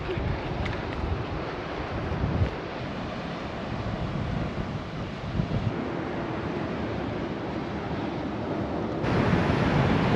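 Wind and surf on a Corsican beach: a steady, loud wash of breaking waves and gusty wind buffeting the microphone, continuous throughout with a stronger gust near the end and no voices.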